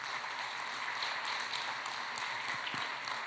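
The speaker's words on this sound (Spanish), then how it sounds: "Pues dale un aplauso a Jesús." A church congregation applauds during a service, a quiet, diffuse patter of clapping heard from a distance, steady throughout with no voices.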